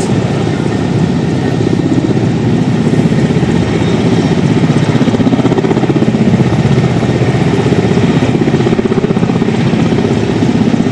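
Helicopter carrying India's Vice President Jagdeep Dhankhar prepares for takeoff at Khetri, its engine and rotors producing a loud, continuous, close roar that holds steady without voices.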